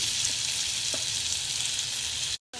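Amla (Indian gooseberry) paste with onion and turmeric frying in a pan, a steady close sizzle with a few soft stirring knocks, cutting out abruptly near the end before briefly resuming.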